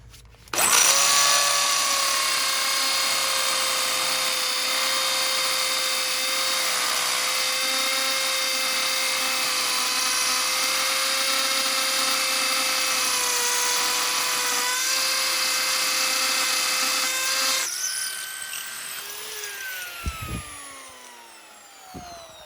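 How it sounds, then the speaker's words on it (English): A power drill with a 3/4 inch bit bores into a wooden deck post, a loud steady high whine running continuously for about seventeen seconds before winding down with a few rattles and clunks. "Now I have the 3/4 drill bit, and as you can see, I'm going almost to this green part a little."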